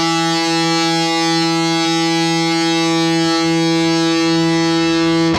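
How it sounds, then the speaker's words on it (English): A distorted electric guitar note rings out with no noise gate, a loud steady sustained tone holding for several seconds without decaying, alone with no talk. "if I take the noise gate off, it'll just continue to ring out."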